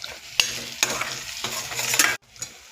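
Boiled egg pieces being sautéed in oil in a pan for a boiled egg curry, a steady close sizzle broken by several sharp stirring scrapes, then cutting off abruptly near the end.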